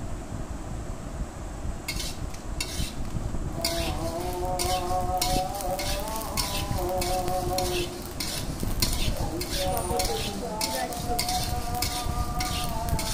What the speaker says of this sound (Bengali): কিন্তু মরিচটা ভালো করে ভেজে নিতে হবে।